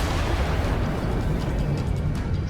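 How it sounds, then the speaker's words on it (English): The Wither Storm exploding in Minecraft: a dense, roaring blast with rumbling booms and crackling bursts, loud and unbroken throughout, heard alone. "this is truly a marvelous explosion"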